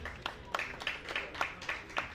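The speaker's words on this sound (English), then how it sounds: "Round of applause for Katongo Adam, please." A summit audience gives a round of applause, steady rhythmic clapping at moderate distance.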